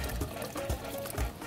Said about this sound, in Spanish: vamos a agregar el agua que nos sobró de la jarra